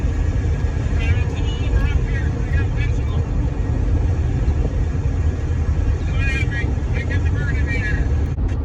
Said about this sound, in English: There's stuff hitting the car. Wind's picking up.